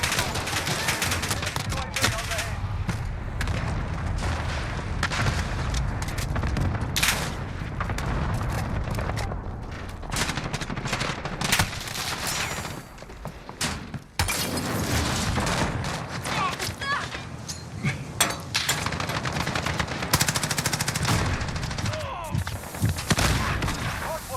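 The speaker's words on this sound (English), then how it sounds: "Enemy cluster strike incoming." Cluster strike explosions in Call of Duty Modern Warfare hit in a long, dense barrage of booms and crackling gunfire at a contested hardpoint, loud and continuous, thinning briefly midway before resuming, with voices over it.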